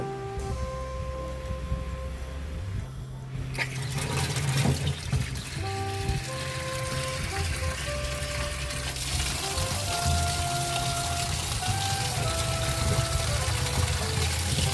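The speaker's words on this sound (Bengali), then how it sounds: "পানি দিয়ে ধুয়ে নেব।" Running water pours and splashes steadily, with soft handling noises as pumpkin slices and vegetables are rinsed, close by and continuous throughout.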